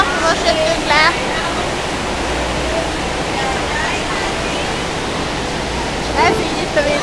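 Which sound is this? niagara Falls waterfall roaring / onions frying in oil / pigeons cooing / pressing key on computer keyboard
niagara Falls waterfall roaring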